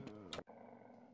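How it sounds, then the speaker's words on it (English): Dogs growl in the They Hunger Episode 2 video game: a close, throaty snarl for about half a second, then a brief gap and a lower, rumbling tail that continues steadily. "Oh, now we have dogs."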